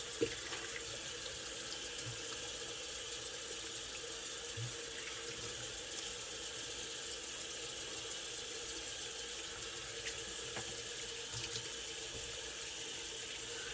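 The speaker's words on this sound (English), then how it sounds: "Let me rinse off real quick" Water runs steadily from a bathroom tap during a shave, a continuous close hiss filling the whole stretch with no talking.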